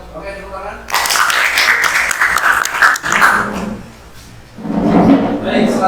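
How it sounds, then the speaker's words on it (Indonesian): Vocational high school class in electrical lighting installation claps after a group presentation, a burst of mixed hand clapping lasting a couple of seconds, with a teacher's voice speaking around it. "Oke, tepuk tangan."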